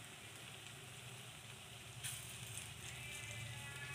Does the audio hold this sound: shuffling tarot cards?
no